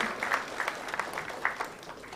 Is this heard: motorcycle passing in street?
no